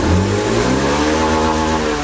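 A Honda Beat fuel-injected scooter engine revs up smoothly and loudly, close by, a steady rising engine note with no hesitation and no voices over it.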